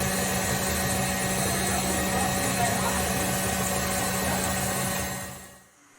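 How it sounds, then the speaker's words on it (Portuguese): A stand mixer beating cream for cake at increased speed, a loud, steady motor whine with a constant hum that runs without pause, then fades away and cuts out near the end. "Vou aumentar aqui a velocidade da batedeira."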